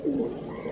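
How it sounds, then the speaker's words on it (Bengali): A Kaldam pigeon held in the hand gives a short, soft, low cooing call, close and clear against a quiet background. "তুমি যে পায়রাটা ধরে আছো কি পায়রা? কালদম পায়রা।"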